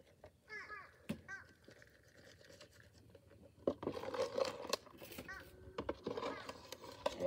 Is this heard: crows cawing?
yes